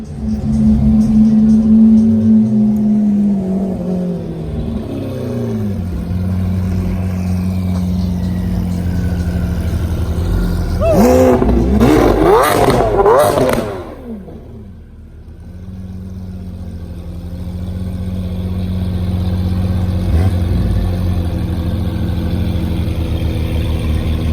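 A wide-body Lamborghini Urus at a car show gives a loud, steady engine drone, broken by a burst of sharp revving in the middle, then settles back to a lower rumble.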